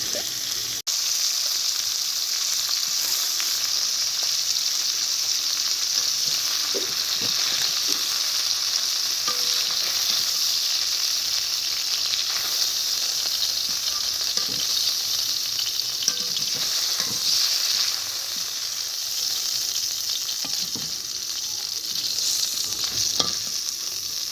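Fish frying in a pan, a steady loud sizzle running throughout with occasional soft clicks as it is turned, no talk.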